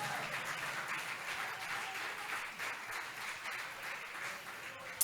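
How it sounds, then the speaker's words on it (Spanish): Church congregation applauding during a Bible study service, a steady, fairly distant wash of many hands clapping that continues evenly for several seconds. "Aplauda fuerte al Rey de Reyes y Señor de Señores."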